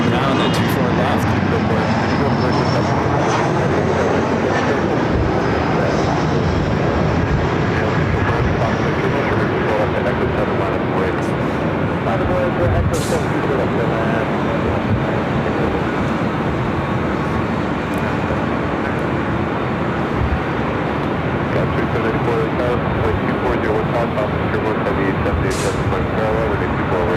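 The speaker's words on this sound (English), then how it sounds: "Emirates already cleared for takeoff. Now we're rolling down at 24 left." An Emirates airliner rolls for takeoff on runway 24 left at LAX, a loud continuous engine roar building with distance rumble, while a voice talks over it.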